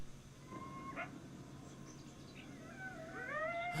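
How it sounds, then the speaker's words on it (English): Faint, distant coyote howls rise and fall in thin wavering tones, a brief cry early on and a longer cluster of overlapping howls at the end, over a hissy background. "Oh, coyote howls."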